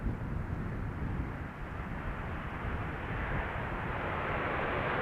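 A KLM airliner inbound from Rome arriving on runway 18R at Amsterdam Schiphol, a steady broad jet roar that swells slightly toward the end, with no voices.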